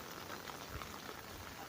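Rain falling during an outdoor tour of a cathedral cemetery in Spanish Town, a steady faint patter with light drips on surfaces and no speech.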